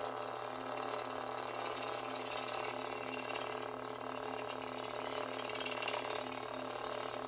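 Motorized moving chamber spinning inside a Dark Vortex lightsaber from Vaders Sabers, a steady close mechanical whir with a faint ratcheting, gear-like texture, continuous and even throughout.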